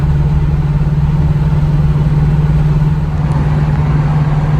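Rumbling engine from a 1975 Pontiac Firebird restomod with a 455 stroker V8, holding a steady, loud, low idle-like drone throughout without clear rev swells and with no talking.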